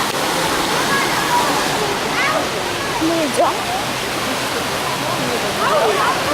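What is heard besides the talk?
waterfall in Georgia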